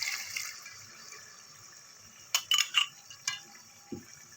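Almonds ground in milk poured into a pot of chicken shahi korma, a soft liquid pour and splash for a couple of seconds followed by a few faint clinks and drips, quiet and close.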